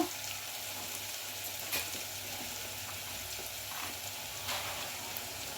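Bitter gourd fries in oil with chili powder and spices in a home kitchen, a soft, continuous crackling sizzle with a few slightly louder pops, heard alone and fairly faint.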